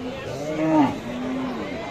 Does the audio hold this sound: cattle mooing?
yes